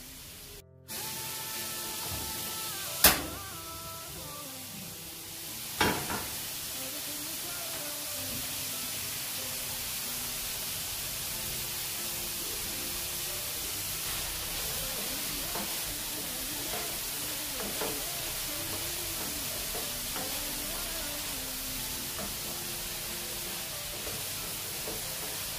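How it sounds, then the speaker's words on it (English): Vegetables and eggs stir-fry in a big pan for fried rice, making a loud, continuous spraying hiss, with a couple of sharp knocks near the start. "Just keep stirring until all the vegetables are wilted."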